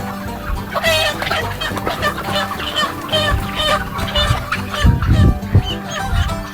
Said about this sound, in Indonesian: Mas Yono, ini ayam-ayam di sini sudah masuk umur 60-an hari